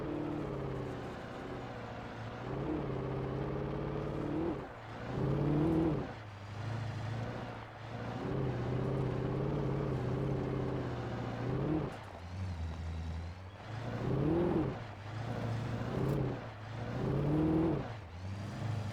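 A car engine in the video game Alan Wake drives over a rough road, a steady loud rumble with repeated surges as the throttle rises and falls, running continuously throughout.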